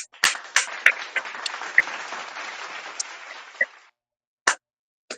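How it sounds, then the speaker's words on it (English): An audience gives scattered applause, a few sharp claps rising into a brief patch of clapping that stops abruptly, followed by a couple of isolated claps after a short silence. "Let me give Pastor Google a round of applause."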